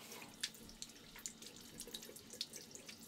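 Tap water runs steadily into a sink as lotion is rinsed off hands, a soft close splashing and trickling with brief louder splashes and no talk.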